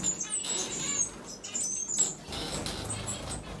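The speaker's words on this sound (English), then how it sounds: "These are my Java sparrows." Java sparrows in an indoor aviary cage holding around 19 birds, with a steady mix of high chirps, tweets and fluttering wings. The sound stays continuous and fairly close for the whole stretch.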